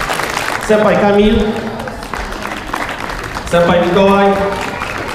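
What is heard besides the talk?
audience applause after a karate show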